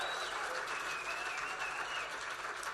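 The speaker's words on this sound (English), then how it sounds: "Let's give them both another big round of applause." Audience applause for donors at a fundraising pledge moment during an Irish music event, a steady wash of clapping held at even loudness for under three seconds.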